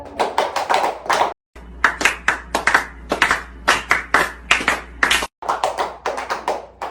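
A small group claps in uneven bursts of sharp, close hand claps, pausing briefly twice before resuming.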